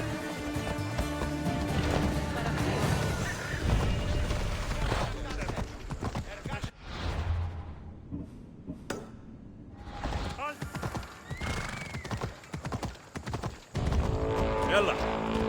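A horse gallops in Assassin's Creed Odyssey, steady hoofbeats under game music and effects, with brief neighing sounds; voices talk over parts of it.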